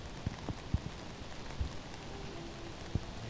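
Rain pours down on a golf course during a pro tournament final, a faint steady hiss with scattered patters and a few soft thumps, and no voices.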